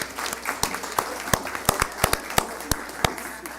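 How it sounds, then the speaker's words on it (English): A thin round of applause at a city council meeting, a handful of distinct, close, irregular claps rather than a dense crowd wash, over a low room murmur. "one more round of applause for everybody"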